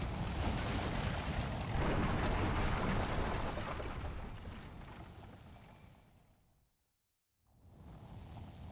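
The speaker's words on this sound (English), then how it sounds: "Cannon." A cannon fires in Fire Emblem: Path of Radiance, a loud deep boom that rolls on for several seconds, fades into a brief silence, then a quieter rumble returns.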